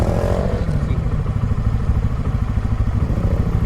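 A big motorcycle's engine throbs and chugs steadily at close range as the bike leans into a turn, with a rough, pulsing rumble throughout.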